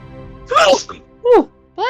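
A single sharp sneeze bursts out close by, followed quickly by voices speaking.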